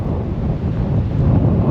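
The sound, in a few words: wind blowing in the Sandhills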